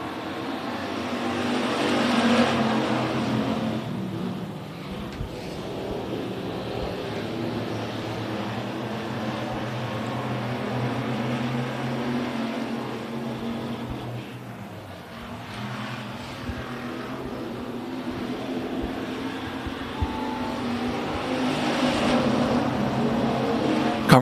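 Race cars roar around Big O Speedway at the green-flag start, a loud sustained engine drone that swells and dips as the pack passes, with no one talking over it.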